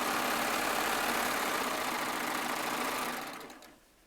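A serger sewing machine runs continuously at high speed stitching a quilt top of jelly roll, layer cake and charm square pieces, a loud, steady whirring hum up close that winds down and stops near the end.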